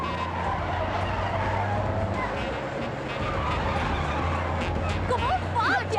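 Cars race and overtake one another in a chase, steady engine roar with tyre noise throughout, voices shouting over it and a few squealing tones near the end.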